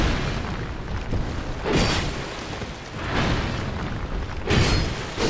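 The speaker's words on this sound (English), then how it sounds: "the fire sword does a lot of damage to this guy" A flaming sword in Dark Souls 2 strikes an armored enemy: three heavy, booming impacts with a roaring whoosh, spaced a second or so apart over a steady rumble.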